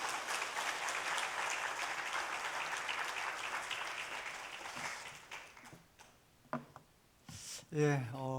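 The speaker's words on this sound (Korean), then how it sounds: "우리 큰 박수로 목사님을 모시겠습니다" Dense, sustained applause from a church congregation greeting a pastor at a revival gathering, filling the first five seconds before thinning into scattered claps and a few voices near the end.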